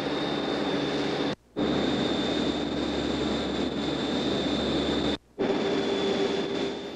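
A Nordair airliner letting down toward the gravel runway at Broughton Island over the Davis Strait, heard from inside the cabin as a loud, steady engine roar with a high whine, twice cut off by brief silences.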